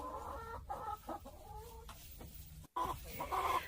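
Backyard chickens cluck and murmur in their coop, several close, soft, broken calls with short pauses between them.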